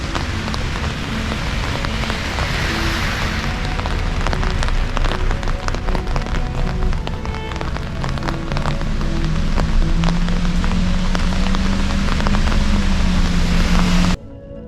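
Steady rain falling on pavement and surfaces in downtown Prince Rupert, a dense continuous hiss with a low hum of a passing vehicle or engine building underneath, no voices.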